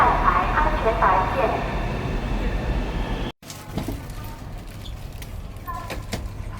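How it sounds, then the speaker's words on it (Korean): A Chinese high-speed train bound for Nanjing rumbles in with a low, steady roar amid busy platform noise and talking, then after a brief cut the rolling rumble continues with faint clanks. "기차 들어옵니다."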